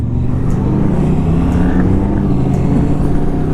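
A 2020 Can-Am Ryker three-wheeler pulls hard under acceleration while racing a KTM, a loud, close engine drone with steady low rumble and rising whine throughout.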